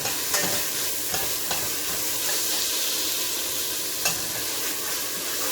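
Shrimp curry in coconut milk, Jamaican style, stirred in a hot pan: a steady close sizzle and hiss with several sharp scraping spoon strokes through it and no talk.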